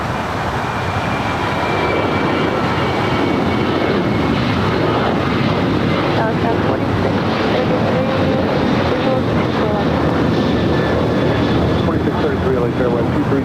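A Queen Air Cargo airplane after landing at LAX, its engines a steady broadband roar turning off the runway, loud and continuous throughout with faint voices underneath.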